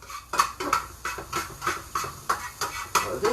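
Rice, mushrooms and peas stirred in a pan, a utensil scraping and clinking against the metal in a regular rhythm of about ten strokes, close and clear with no talk.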